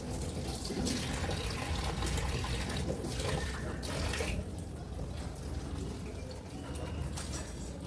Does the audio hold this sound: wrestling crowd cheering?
no